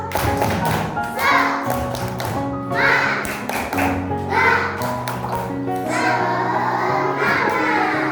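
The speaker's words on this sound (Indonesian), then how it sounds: "Tepuk semangat." A class of children doing a spirit clap together, producing rounds of rhythmic claps and taps, loud and close, mixed with children's voices and background chatter throughout.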